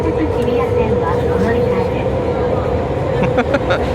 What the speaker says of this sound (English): We're in a pretty crowded train leaving Disney.